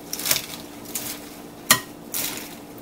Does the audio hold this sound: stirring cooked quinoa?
yes